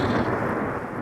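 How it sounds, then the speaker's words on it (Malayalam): A radio drama's rain-and-thunder effect plays as a dense, steady wash of heavy rain with a low rumbling roll of thunder, loud and close, with no voices over it. "ഇതെന്നാ മുടിഞ്ഞ മഴയാ എന്റെ കർത്താവേ."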